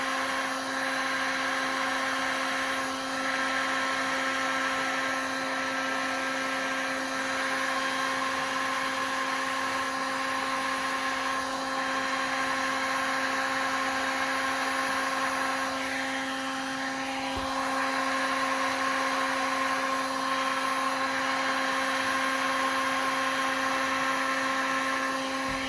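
A heat gun blows hot air over a resin ocean pour with sand and gold lacing, producing a steady, loud, close-up whirring drone with a constant motor hum that runs unbroken throughout and carries no talk.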